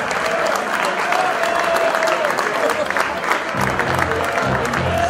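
An audience at a regimental band and music corps roll call applauds loudly and continuously, a dense wash of clapping with some cheering and voices mixed in.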